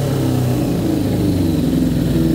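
A 2000 Yamaha R6 motorcycle engine revs steadily after carburetor cleaning and synchronization, a loud close sustained drone with the revs hanging high instead of dropping back.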